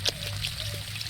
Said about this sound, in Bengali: ঝোল দিয়ে দিচ্ছি আমি